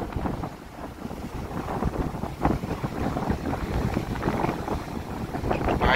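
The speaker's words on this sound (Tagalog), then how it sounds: "Parang hindi kaya ng drone ko yung ganito kalakas na hangin." Strong wind buffeting a microphone outdoors during a North Luzon road trip, a steady loud rumbling roar with gusts that swell and ease throughout, and no talking.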